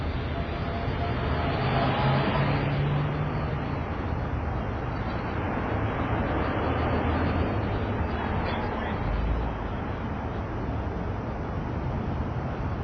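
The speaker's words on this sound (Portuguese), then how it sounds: "o barulho das pessoas nas ruas e dos carros não permitem um momento de descanso" Busy city street with people and cars, a steady dense roar of traffic and crowd noise with a few louder swells as vehicles pass close by, continuous throughout.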